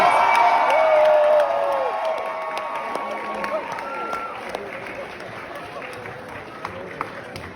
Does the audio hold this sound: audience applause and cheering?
yes